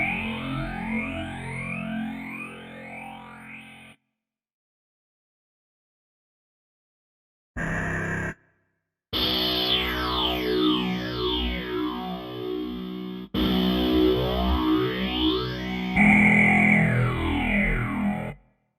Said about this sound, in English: See what the different filters sound like.